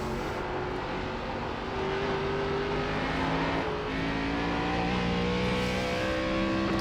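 An ARCA race car's engine in iRacing at Nashville Fairgrounds drones loud and continuous, its pitch climbing steadily under hard throttle with no talk over it.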